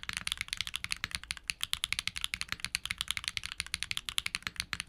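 Rapid, steady typing on a mechanical keyboard with tactile switches, each keystroke a crisp, bright click in a fast continuous rhythm, close up and fairly quiet.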